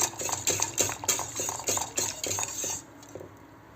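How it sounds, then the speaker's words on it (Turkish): A utensil stirs béchamel sauce with milk in a pot for Italian-style lasagna, making quick, rhythmic scraping and clinking strokes against the pot that are fairly quiet and close. "Evet karıştırmaya devam ediyoruz"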